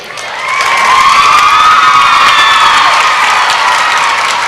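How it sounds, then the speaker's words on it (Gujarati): A large crowd of students at a motivational talk in a school bursts into loud, sustained applause mixed with cheering and shouting, swelling quickly and holding at full strength throughout. "અને એક જોરદાર તાળીઓ"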